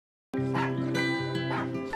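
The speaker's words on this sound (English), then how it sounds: "you start hearing the puppy barks in the background" A puppy barks and yips a few times, close and clear, within the Budweiser Puppy Love Super Bowl ad, its short bright calls standing over a steady tonal music bed.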